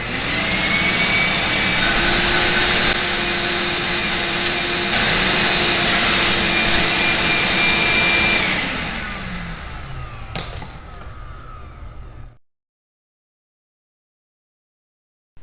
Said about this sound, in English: Then I'm gonna vacuum it.